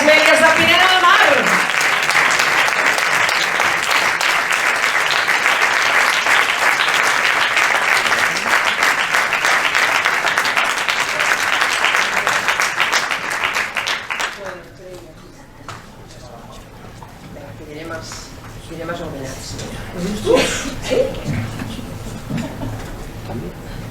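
Sustained applause from a festival audience at a film awards session in Pineda de Mar, loud and dense for about fourteen seconds before dying away, followed by quieter room noise and a few voices.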